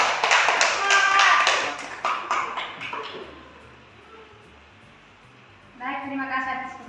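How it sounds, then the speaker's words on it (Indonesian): Students applaud in a classroom during a supervised lesson, a quick burst of clapping that fades over a few seconds before a voice begins speaking. "kasih tepuk tangan."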